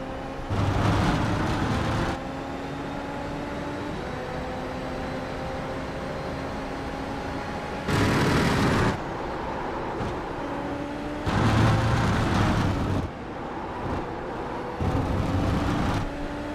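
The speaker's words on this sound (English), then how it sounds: "Why does this car sound like a Hoover?" A car engine in a racing video game, with a whooshing, vacuum-cleaner-like whine that drones steadily and rises in pitch. Several louder noisy bursts swell in and out of it. There is no talk.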